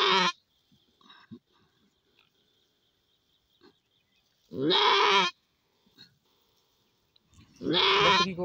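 A goat in labour giving birth to two kids bleats in three loud, strained cries spaced several seconds apart, with faint rustling and quiet gaps between.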